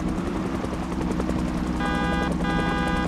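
Helicopter from the video game Project Zomboid droning steadily close by, a continuous low rotor rumble with a tonal whine entering partway, alone without talk.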